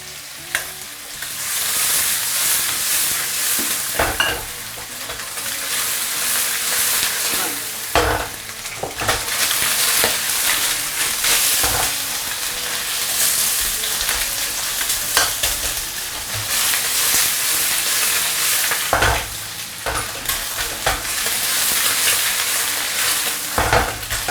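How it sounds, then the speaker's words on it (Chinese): Fish bones pan-fry over the highest heat in a mix of oil and lard, a steady loud sizzle broken by repeated scraping and stirring strokes of a spatula against the pan, no voices. "这时候是最大火给它煎一煎"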